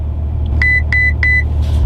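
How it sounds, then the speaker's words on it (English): A Lykan Hypersport's cabin chimes three quick, evenly spaced electronic beeps as its ESC is switched off, ringing clearly over a constant low engine rumble. "So if I hold this over now, you just listen to it beep."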